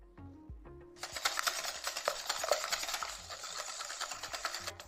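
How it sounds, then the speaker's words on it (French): Eggs being whisked with sugar in a bowl for Korean waffle batter, a fast, close rhythmic clatter of whisk against the bowl lasting several seconds after a few soft knocks. "Fouettez-les un peu."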